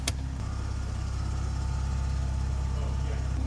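A BMW M340i engine with a big turbo, running catless, idles close by with a low, steady rumble and a slightly uneven pulse, after a brief click at the start.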